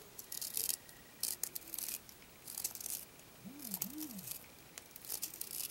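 A cheap pencil sharpener grinds into a hard wooden pencil in short, faint, scratchy bursts of scraping, repeated several times with quiet gaps between turns.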